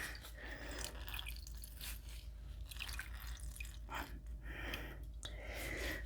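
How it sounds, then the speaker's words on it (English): Herbal tincture liquid drips and trickles from a strainer squeezed by hand, with soft wet spatters and faint squelches, close and quiet, without any talking. "you just squeeze until you can't get any more of the juice back out again"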